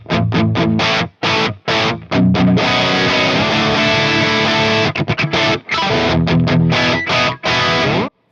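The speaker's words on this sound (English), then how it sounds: "even if I put some distortion on the guitar" Distorted electric guitar played back through an Xvive U4 wireless in-ear monitor system, loud chugging chords and short stabs broken by brief silences, with no voices.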